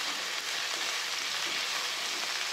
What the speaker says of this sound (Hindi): तकरीबन 1 मिनट के लिए हम तेल में फ्राई करेंगे सब्ज़ी को।